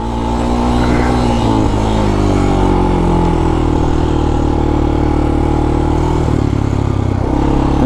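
A Honda TRX 250X ATV engine revs and labors as it rides across a side hill, loud and close, with shifting pitch as throttle changes over the whole stretch.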